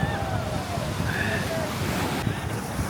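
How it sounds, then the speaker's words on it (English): Ocean waves splash against the end of a pier at the southernmost point, a steady rush of surf mixed with heavy wind buffeting the microphone, with a faint voice in the background. "you can see waves here splashing into the end of the pier"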